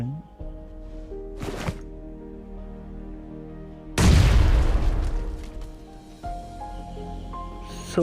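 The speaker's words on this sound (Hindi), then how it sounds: "इसको मैं एक ग्रेनेड करता हूँ, और इस ग्रेनेड में देखो भाई क्या ही बूम" A grenade goes off in a battle royale mobile game, one loud booming blast midway that rumbles and fades over a couple of seconds, set against game music tones and a short earlier burst.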